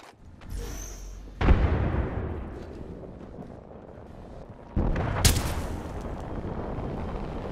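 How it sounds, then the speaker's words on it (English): Two heavy booms of a frag grenade in a battle royale shooter, each a sharp blast followed by a long rumbling decay, the second arriving a few seconds after the first and rolling on to the end. "Frag grenade sent."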